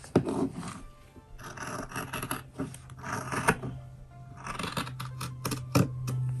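Scissors snip through fabric along a marked line for a bag, a run of close, crisp cutting strokes with short pauses between them, and no voice.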